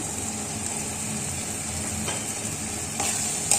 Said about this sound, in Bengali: আমি একটু নানিয়ে নিই নাহলে আমার মশলাটা বা পুড়ে যাবে